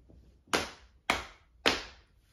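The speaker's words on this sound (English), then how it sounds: "Julian, will you pat your knees 3 times?" Three sharp, evenly spaced pats of hands slapping knees, loud and close, each with a brief decay, in a quiet room.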